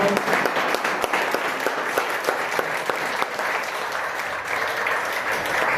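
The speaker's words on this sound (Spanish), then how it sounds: "Vamos a dar un fuerte aplauso al Señor." A congregation applauding steadily for several seconds at a church service, dense clapping with a few sharper claps standing out.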